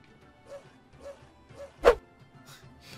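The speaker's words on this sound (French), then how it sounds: "Mais je vais aller voir le chien." A dog in the video game Tales of Zestiria gives a few soft, evenly spaced barks about half a second apart, followed by one sharper, louder crash-like hit.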